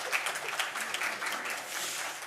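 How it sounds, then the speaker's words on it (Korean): Applause from a church congregation at a Sunday service welcoming a new member, a dense, even patter of many hands clapping without a break, fairly soft and in the middle distance. "박수"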